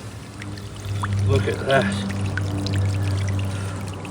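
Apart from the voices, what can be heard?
dirty water flowing out of a pond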